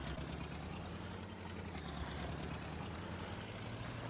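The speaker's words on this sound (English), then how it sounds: "the tractor is actually really struggling, but it's doing a good job" A little old tractor engine labouring under load in Farming Simulator 22, a low steady rumble with a rough, knocking pulse, moderately loud and continuous with no talk.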